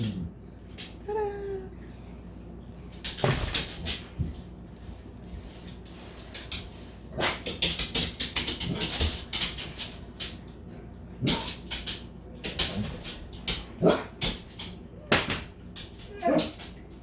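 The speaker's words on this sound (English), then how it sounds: "My dog." An excited pet dog whimpers with a rising whine early on, then scrabbling, bumps and short yelps follow in irregular bursts around a home, with a voice at times.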